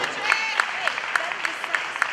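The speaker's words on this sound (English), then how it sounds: "Now let's give him a big round of applause" An audience at a raw powerlifting meet claps for a lifter after a squat attempt, brief steady applause with a few sharper rhythmic claps standing out and voices mixed in.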